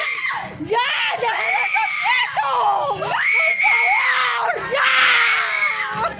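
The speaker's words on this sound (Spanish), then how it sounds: "Gritos de angustia eran los que se escuchaban por parte de la comunidad ante los enfrentamientos" People scream in distress during street clashes after a road blockade in the San Martín neighborhood, loud, sustained high wails rising and falling close by, overlapping one another with shouting.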